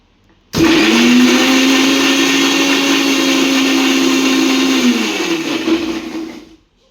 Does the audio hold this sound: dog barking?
no